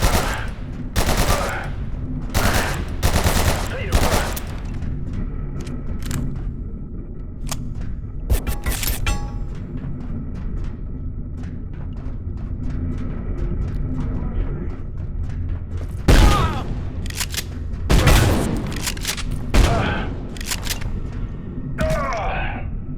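Rapid automatic gunfire in the video game Abiotic Factor, aimed at an armored hostile enemy, comes in loud sharp bursts and rattling volleys with quieter stretches of mechanical clatter between them.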